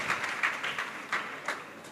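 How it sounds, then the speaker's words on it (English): Applause from a student audience at a career expo, a soft, diffuse patter of clapping hands, moderately distant and steady with a few louder swells. "Give yourself a round of applause."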